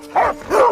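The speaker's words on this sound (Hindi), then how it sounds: "ये ऐसे क्यों भौंक रहे हैं?" Two dogs barking and yipping in a short agitated burst, two loud barks close by with a whiny edge, no talk over them.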